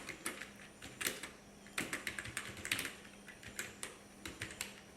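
Quiet, fast typing on a computer keyboard while entering SQL code, with irregular bursts of keystrokes and short pauses between them.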